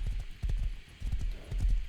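A horse gallops in the video game Rust, with quick rhythmic hoofbeats in repeating bursts of clops over a low rumble and no talking.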